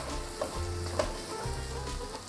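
Beaten egg mixture frying and being stirred in a pan, a close, steady crackling sizzle with occasional spatula knocks and scrapes.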